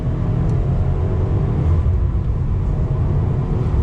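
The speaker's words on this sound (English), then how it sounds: "Let's go ahead from a dead stop again and see how she goes." A 2020 Subaru WRX Base pulls away hard from a dead stop, its turbocharged engine rumbling loudly and building steadily as it accelerates, heard from inside the car without talk.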